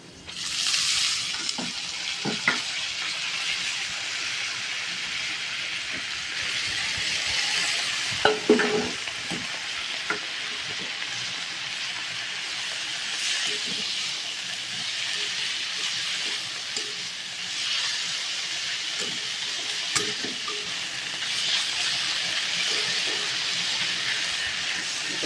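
Boiled banana flower frying with browned potatoes in a pan gives a continuous crackling sizzle, with occasional scraping stirs, loudest around the middle, heard up close with no talking.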